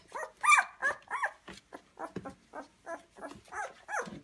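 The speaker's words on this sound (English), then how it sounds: "This is the 9-day-old puppies." Nine-day-old puppies whimper and squeal in rapid high-pitched bursts, close by and continuous, with a few short yelps among the cries.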